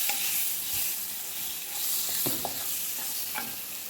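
A chopped medium tomato fries with ground spices in a pan over low heat. A steady hiss of sizzling runs throughout, and scattered soft stirring scrapes sit on top of it, with no voices.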